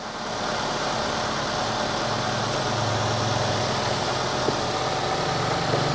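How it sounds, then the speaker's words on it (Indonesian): The 1300cc engine of a 2011 Daihatsu Xenia Xi with manual transmission idles smoothly and steadily, a close, even hum with no pauses or irregular noises. "untuk suara mesinnya halus, tidak ada suara-suara aneh"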